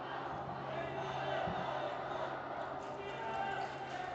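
Football fans in the stands at a U-16 youth match stir into a broad, steady crowd roar late in stoppage time, a distant, continuous wash of voices running beneath nearby talk.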